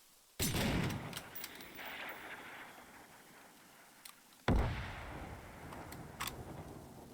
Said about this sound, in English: Personally, sound-wise, I think the Mosin has the best sound profile. It's beefy, and bolting has this very distinct sound to it from the other bolt sounds.